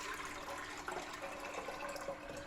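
Blackcurrant juice poured and splashing into a pan, a steady close watery rush lasting a couple of seconds.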